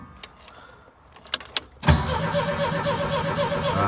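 An old Bobcat 632 skid steer engine cranking sluggishly on a weak battery at a cold start: a few faint clicks, then a steady labored churning of the starter, loud and close with no talk.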